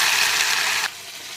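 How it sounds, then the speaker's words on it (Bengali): Ginger, cumin and green chili paste fries on a low flame with a steady bright hiss that cuts out abruptly after under a second, leaving a faint low sizzle. "দু মিনিট লো ফ্লেমে এটা ভাজতে থাকবো।"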